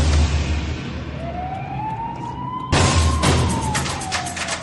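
Police sirens wail during a chase after a stolen car in Thailand, one rising and falling tone followed by a second louder siren with rapid bursts over a low engine rumble.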